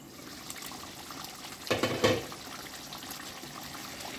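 Mutton cooking water poured into a pot of half-cooked potatoes for mutton peratel with coconut, a short liquid splash rising for about half a second, alone over faint kitchen background.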